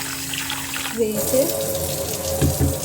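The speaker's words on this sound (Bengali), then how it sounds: "তো এই যে চিকেনটা থেকে আমি ধুয়ে নিচ্ছি ভালো করে।" Running tap water splashes over minced chicken as it is washed in a sink, a close gushing flow with brief louder splashes near the end.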